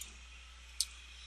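A single sharp computer mouse click sounds once near the middle against faint steady hum, as a nurse searches a computer for a file in the visual novel Katawa Shoujo.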